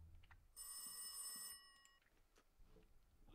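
Telephone bell ringing in the PC horror game Rise of Insanity, a bright repeating electronic ring that is loud for about a second, then fades out, with quiet ambience before and after.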